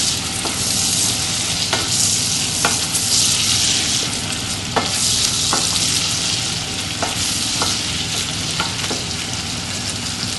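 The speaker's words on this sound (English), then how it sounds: "We can now pour those carrots into that butter with the ginger and just stir them all around" Carrots fry gently in ginger butter in a pan, giving a loud, steady sizzle with occasional clicks of a spoon stirring, close and continuous with no talking.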